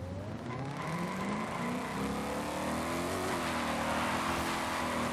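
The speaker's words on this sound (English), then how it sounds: "You hear that supercharger," A supercharged Ford Mustang Terminator Cobra in Forza Horizon 5 accelerates hard, its engine and supercharger whine climbing steadily and loud, with some tire squeal and no talking.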